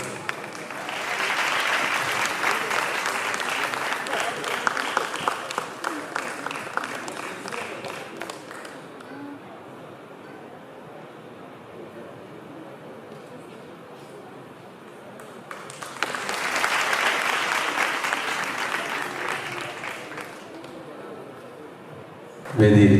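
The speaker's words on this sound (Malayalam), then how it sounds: "ചന്തു സാറിന് ഒരു നല്ലൊരു കയ്യടി" An audience at a college event applauds to honour a guest, a long burst of clapping that fades into a quieter stretch, then a second round of applause swells before trailing off.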